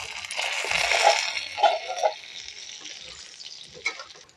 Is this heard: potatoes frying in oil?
yes